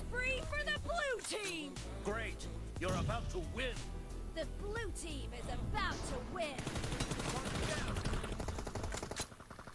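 Rapid bursts of gunfire from the mobile game PUBG Mobile, played at 90fps on a Xiaomi Mi 10T 5G, crackle continuously while someone talks over them throughout.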